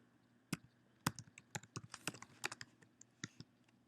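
Search query typed on a computer keyboard: quick irregular key clicks in short bursts, fairly close but quiet, with no voice over them.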